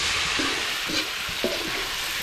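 Beef frying in a pan at an outdoor jungle cooking spot gives a steady, dense sizzle with faint stirring thuds underneath, close and continuous with no talk.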